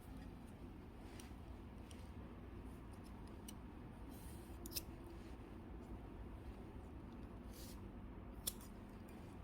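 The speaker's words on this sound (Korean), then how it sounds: "필요 없는 부분은 가위로 잘라주세요." Scissors snipping off excess macrame cord from a knotted wall hanger, with a few faint, sharp cuts standing out over steady low background noise.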